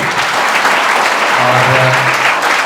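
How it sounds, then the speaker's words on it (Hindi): Loud, enthusiastic applause from a crowd at a student felicitation event, steady clapping that fills the whole moment without pause. "इनके लिए भी बात जोरदार ताली होनी चाहिए।"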